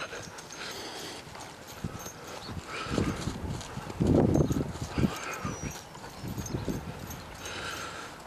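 Hooves thud and clop irregularly on soft ground, a horse moving around fairly close, with some louder stamps in the middle and no talking.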